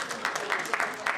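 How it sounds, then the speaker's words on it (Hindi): An audience claps at a stage event for a Hindi comedy film, a dense, steady patter of applause with a speaking voice over it. "अरे तालियां बजाइए।"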